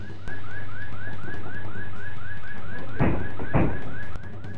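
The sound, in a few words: burglar alarm system going off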